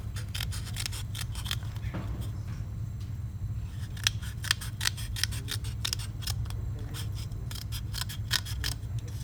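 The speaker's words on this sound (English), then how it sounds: "maybe you can finish it off with a pair of scissors" A pair of scissors snips steadily along a pencil outline, a rapid rhythm of close, crisp cuts with brief pauses, over a low steady hum.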